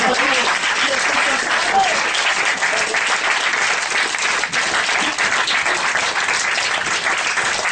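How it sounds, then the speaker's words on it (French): Sustained, dense applause from an improv comedy show audience fills the whole stretch at steady, loud intensity, with no talking standing out above the clapping. "Allez, on applaudit bien fort."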